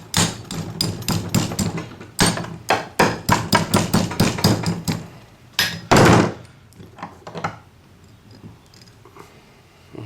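Metal being rounded over the horn of an anvil with a hammer, a rapid series of sharp ringing blows in quick bursts, loud and close, followed by a few scattered lighter taps.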